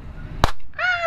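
A toy roulette gun fires one short, sharp pop, near and loud, followed by a brief voice.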